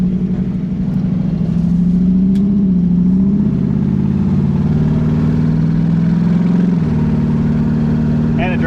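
Lumpy V8 of a 1937 Buick street rod fitted with a new BluePrint Engines 350 crate engine, steady loud cruising drone with a rising rev swell, engine dominant throughout with faint voice-like tones mixed in.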